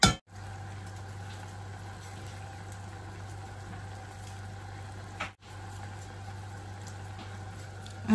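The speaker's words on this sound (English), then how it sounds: "Let it boil." Jackfruit pieces boiling in melted sugar, a steady low bubbling simmer that runs continuously with a brief break partway through, moderately close and with no talking.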